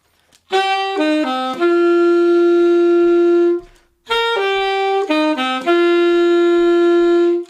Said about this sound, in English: I'm going to play it on saxophone first